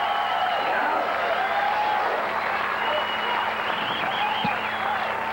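Crowd at the 1998 AVP beach volleyball final in Atlanta applauding a defensive play, a steady wash of clapping and cheering under continuous commentary, with a brief sharp knock near the end.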